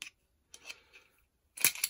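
A circuit breaker part is cut, heard as a few sharp, close snips and clicks separated by brief silences, with a louder double snap near the end.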